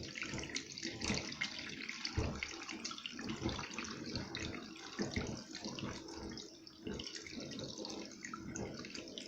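Water runs steadily from a tap into a sink or tub during a curtain wash, a continuous splashing gush with some dripping texture throughout. It is fairly close and moderate in level, with no talking.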